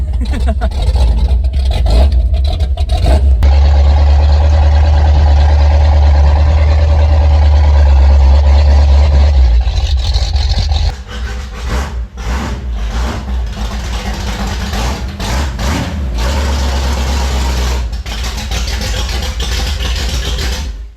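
A silver Spirit car's engine idles with a loud, steady low rumble that shifts in tone partway through, with some voices and clatter around it.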